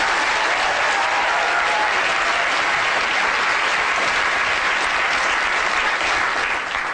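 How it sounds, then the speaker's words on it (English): A lecture-hall audience breaks into sustained, dense applause at a 2011 talk, loud and even from start to finish with no voices standing out. "Round of applause for Dominic, please."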